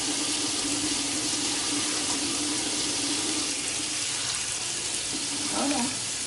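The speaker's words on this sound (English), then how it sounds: "I'm gonna put 3 cups of water in my pan over here." Tap water pours steadily into a cooking pan at home, a continuous close splashing rush that fills the whole stretch, with a faint clatter near the end.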